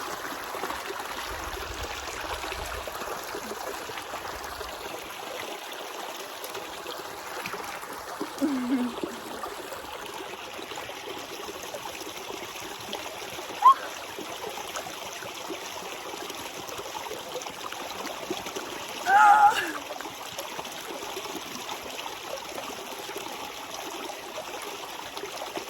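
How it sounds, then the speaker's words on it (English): A small desert waterfall trickles into a pool, a soft continuous babble of running water close by with a few faint splashes and brief rustles. "And look at this little waterfall."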